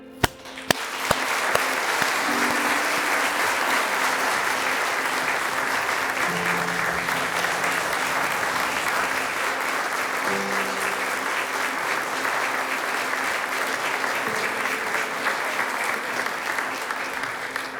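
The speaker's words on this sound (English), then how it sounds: "I now invite you from all around the world to join me in offering a round of applause to the class of 2020." Sustained audience applause honoring the graduating class of 2020 at a healthcare and postgraduate academic awards ceremony, a steady dense wash of clapping lasting throughout, with faint tones and murmurs beneath.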